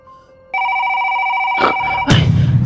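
A phone rings with a steady, close electronic tone that starts about half a second in and holds. It is then overtaken by rustling and louder handling noise.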